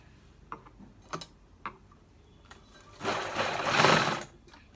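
Sewing machine stitching a ruffle dupatta: a few soft clicks, then a close, steady whirring run of stitching for about a second and a half before it stops.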